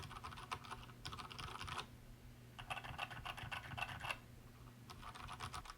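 Typing on a KB Paradise V60 mechanical keyboard fitted with Cherry MX Brown switches, soft and fairly quiet, in three short bursts of rapid clicks and clacks separated by pauses over a low background hum.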